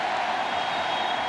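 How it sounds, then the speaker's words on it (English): A dense, continuous roar rises from a packed stadium crowd at the Clare v Limerick 2023 Munster Hurling Championship Final, a loud, even wash of cheering with no breaks over its short span. "And listen to the crowd."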